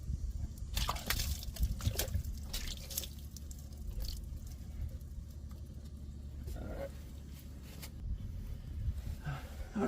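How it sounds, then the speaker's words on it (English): Water splashed up under a 2015 Ford F250 pickup truck makes irregular close splashes and drips, some sharp bursts, over a low continuous rumble. "So we're gonna splash some water up there, then we'll go get more water"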